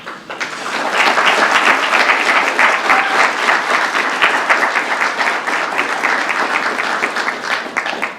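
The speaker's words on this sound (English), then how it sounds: "let us give you a round of applause" A committee meeting audience claps for a team that stands, with a loud, sustained round of applause in an indoor room lasting about eight seconds and fading a little at the end.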